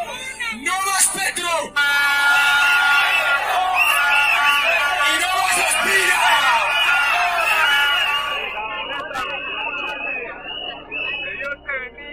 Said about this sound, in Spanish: Desde aquí quiero que gritemos en una sola voz, señores.